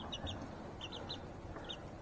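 Young chicks moved into a bigger pen give repeated soft, high cheeps and clucks in short bursts, fairly close, over a steady background hum.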